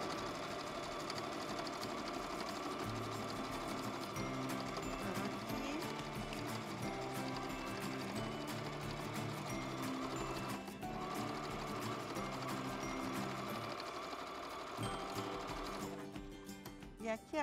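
A sewing machine runs continuously while stitching a fabric bag, its rapid rhythmic whirr holding steady close by before slowing near the end.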